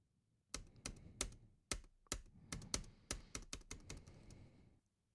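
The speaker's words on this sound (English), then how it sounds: "So if I want to see more, I hit the space key." Repeated key presses on a computer keyboard, about a dozen sharp clicks at an uneven, steady pace, close and fairly quiet with no talking, as the space key is tapped again and again.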